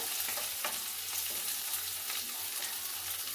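A tempering for curd rice, with coriander leaves in it, fries in a pan with a loud, steady sizzle and crackle, broken up by light stirring scrapes.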